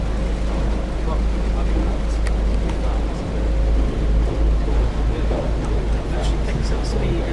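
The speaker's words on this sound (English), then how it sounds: "So you can hear the engines revving up a bit." A Perth public transport ferry's engines rumble low and steady while idling before revving, under nearby people talking.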